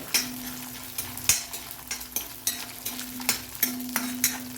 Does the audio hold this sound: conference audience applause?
no